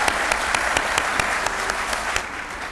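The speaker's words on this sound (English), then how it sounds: "that deserves another round of applause" Audience at a community meeting applauds after a performance, dense, steady clapping with a few sharper individual claps standing out throughout.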